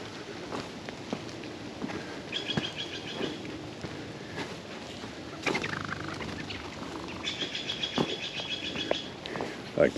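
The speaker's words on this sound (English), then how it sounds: "I like their little intense fluttering sounds." Small birds flutter their wings in quick bursts amid soft outdoor rustling in rain, with faint chirps and occasional footsteps-like taps nearby.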